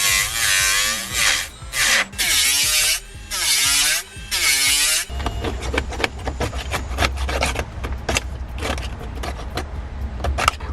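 A circular sander works on the dash of a Jeep Wrangler JL, with a loud, close whining buzz in several start-stop bursts followed by continuous gritty rasping and scraping.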